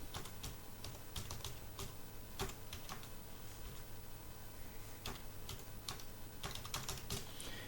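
Computer keyboard keys clatter in quick, uneven bursts as a web address is typed, a close and steady stream of clicks with short pauses, no talking.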